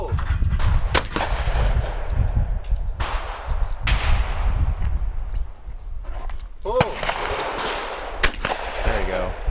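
Shotgun shots fired at clay targets in a team shotgun challenge outdoors, several sharp loud blasts spaced irregularly with wind noise and people talking between shots.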